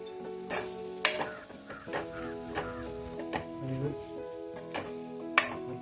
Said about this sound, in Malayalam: നമുക്ക് ചിക്കൻ ഇട്ടൊന്ന് വരട്ടിയെടുക്കാം